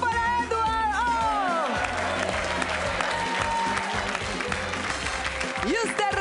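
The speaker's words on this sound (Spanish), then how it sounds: "¡Aplauso para Edward!" Studio audience on a Spanish-language dating show bursts into applause and cheering, loud and continuous, with whoops and voices mixed into the clapping throughout.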